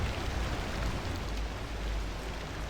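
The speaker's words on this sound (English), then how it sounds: "I love how much it rains in this location." Steady, dense rain in the video game Pacific Drive, a continuous broadband wash of drops pattering on surfaces, even and unbroken throughout with no voices.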